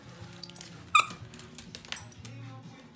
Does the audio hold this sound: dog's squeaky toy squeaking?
yes